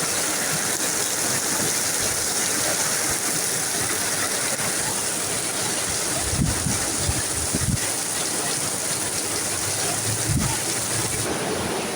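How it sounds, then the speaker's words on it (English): Heavy thunderstorm rain pours outside a workshop, a dense, loud, steady hiss throughout, with a few low rumbles of thunder midway. "here's our thunderstorm that just come rolling in"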